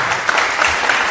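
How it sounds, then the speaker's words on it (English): Audience applause at a DBA conference in Las Vegas as a finance company CEO is welcomed on stage, a steady, dense wash of many hands clapping at close range throughout. "Yes, you can applaud, yes."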